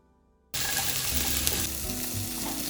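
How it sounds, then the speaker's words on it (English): Boiled rice with curry powder and paprika hits a hot pan after a quiet half second. It bursts into a loud, dense sizzle with stirring that continues steadily to the end. "Now we're gonna add curry powder, paprika, and then boiled rice."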